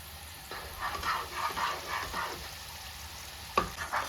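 Fried wheat gavvalu being stirred into hot sugar syrup in a pan, a steady scraping, bubbling stir with soft sizzle, one sharper knock near the end, close and fairly quiet with no talking.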